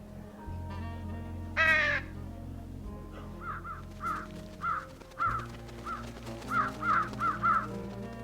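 Crows caw in the adventure video game Trüberbrook: one long raspy call early on, then a run of short, rhythmic caws repeating against a soft background music score.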